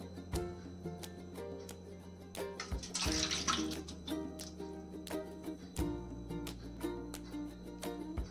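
A cup of milk poured into a large bowl for a homemade Christmas plum cake, giving a continuous close liquid splashing and gurgling stream with a brief louder rush partway through.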